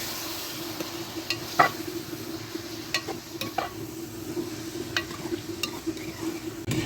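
Keema with three medium tomatoes and two green chillies is stirred in a pan: a low sizzle runs throughout while sharp spoon scrapes and taps land at irregular intervals, close by and with no speech.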